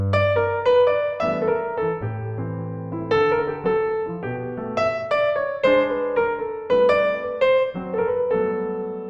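Solo jazz piano improvises with a light swing feel over a 1-6-2-5 progression in a tutorial on a song, with bass notes and chords under a flowing right-hand melody, steady and clear with no talking.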